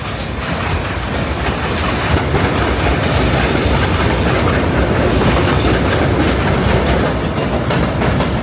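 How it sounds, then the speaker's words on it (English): A train rushes past close by in New York City, a loud, sustained roar of rolling wheels with rhythmic clickety-clack and faint squealing, steady throughout. "Oh, that's the train"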